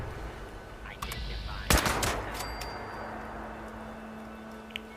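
Single gunshot in Fallout 76 on PS4, one loud close crack with a short echoing tail, surrounded by faint ambient game sounds and low background talk.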